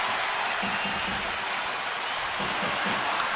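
A hockey arena crowd in Belfast roars and applauds steadily after an on-ice fight, a continuous dense wash of cheering and clapping heard from within the stands.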